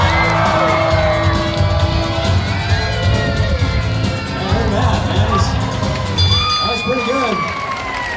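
Audience at a Universal Studios animal actors show cheering, whooping and shouting loudly throughout, a dense crowd roar with voices rising above it.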